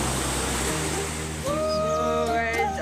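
A large river in flood rushes past in a continuous loud roar, with a thin tonal whine rising over the flow partway through.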